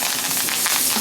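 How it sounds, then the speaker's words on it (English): Picked tarragon and parsley frying in bone marrow fat, a loud, close burst of dense sizzling that holds steady for a moment with no voices. "Let that fry up."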